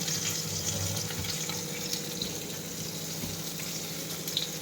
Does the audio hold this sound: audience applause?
no